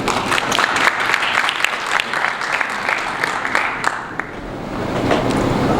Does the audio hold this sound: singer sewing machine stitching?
no